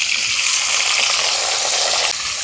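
Chopped onion and tomato hit hot mustard oil for a Bengali jackfruit-and-prawn curry, giving a loud, close, steady hiss of sizzling that runs unbroken, easing slightly near the end.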